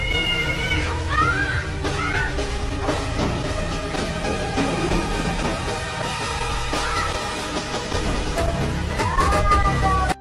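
A cat, filmed in an attack clip with a boy, meows and yowls in rising, wavering cries over a busy, steady background din.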